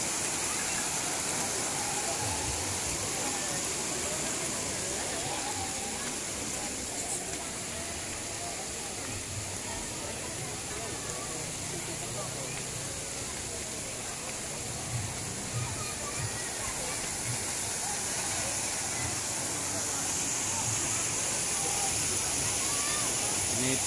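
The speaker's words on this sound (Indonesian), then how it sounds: "Itu air terjun Jumok." A constant broad roar of falling water from the Jumog waterfall nearby, steady throughout with faint voices and movement of a busy crowd underneath.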